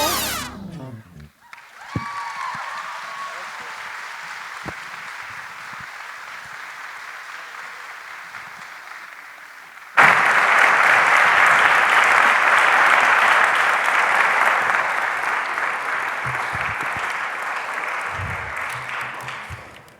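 An audience at a Martin Luther King Jr. convocation breaks into applause, scattered clapping that swells sharply into loud, sustained applause for about ten seconds before gradually fading.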